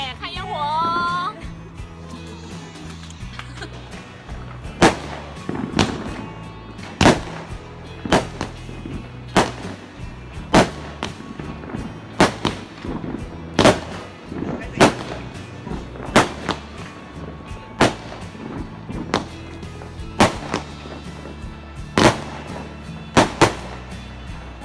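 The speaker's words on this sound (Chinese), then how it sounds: "看烟火，哎，我要拍烟火" New Year fireworks burst in a long series of sharp, loud bangs at irregular intervals, some close together, with crackling between blasts and a few voices in the background.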